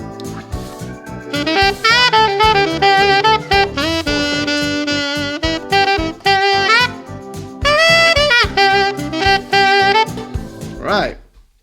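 A pentatonic scale of five different notes is played on an instrument as a quick run of separate notes going up and down, fairly loud and steady, with no talking.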